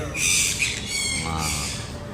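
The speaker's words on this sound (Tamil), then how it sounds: "கிளி" A green parakeet kept as a household pet gives a burst of loud, harsh squawks and screeches, close by, with short pauses between calls.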